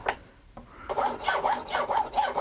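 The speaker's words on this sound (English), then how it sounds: "I'm just going to clean the cut edge up and make sure it's square to the sides of the nut" A metal file rasping the freshly hacksawed edge of a 5 mm thick brass guitar nut blank, squaring it to the sides; a few tentative strokes, then steady rhythmic back-and-forth filing, close and clear.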